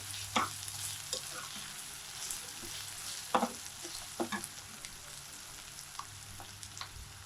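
A mixture frying in a pan for chicken fry, stirred slowly with a spoon: a quiet steady sizzle broken by several sharp scrapes and clinks of the spoon against the pan.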